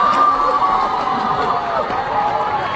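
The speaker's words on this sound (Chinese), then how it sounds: "掌声" Close, loud crowd cheering and whooping from an audience at a concert, with a bright shout cutting through and mixed voices carrying on for a few seconds.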